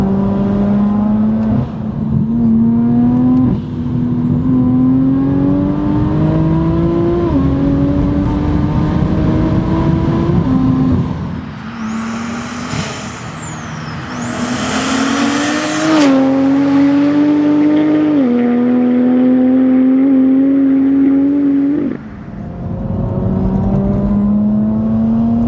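Engine of an 850 bhp BMW M240i under hard acceleration, roaring loud and close from inside the car, pitch climbing through the gears with brief dips at each shift and a high jet-like whine over the top.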